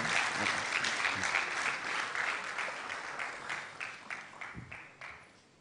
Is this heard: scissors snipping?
no